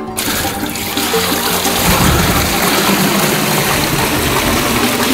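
Well water pours steadily into a 30-litre tavern samovar, a continuous close splashing rush that swells slightly after the start, no speech.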